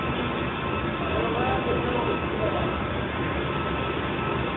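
CSX train passing close by, a loud, steady rumble and roar with clattering rail noise that stays constant throughout, no clear breaks.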